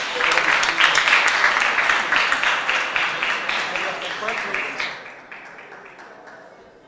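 Audience applause for prize winners at a science and technology innovation challenge closing ceremony, a dense burst of clapping that holds steady for several seconds, then thins and fades out toward the end.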